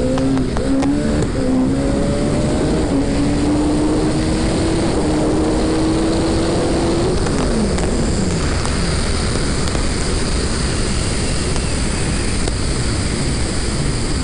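Turbocharged Suzuki GSX-R Hayabusa engine screaming on a dyno, loud and continuous with rising engine tones through several gear-like sweeps before settling into a sustained high-rpm roar.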